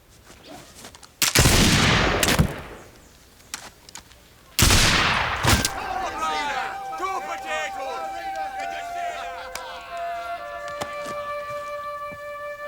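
Musket shots fired at tossed potatoes: two loud, sharp blasts several seconds apart, each followed by a rolling echo, with voices talking around them and a sustained tonal ring lingering after the second shot.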